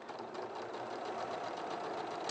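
A sewing machine stitches a quilt block for a butterfly design, its motor giving a steady, even whir that runs unbroken and close for a couple of seconds with no talk over it.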